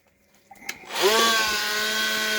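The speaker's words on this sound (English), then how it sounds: "I'm going to go back over to our sonic cutter, and we're going to make the arms." Ultrasonic cutter carving into a block of Spam, starting after a few faint knocks and then settling into a loud, steady whining buzz with a high tonal ring that holds to the end.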